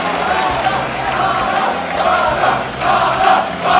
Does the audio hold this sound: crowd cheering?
yes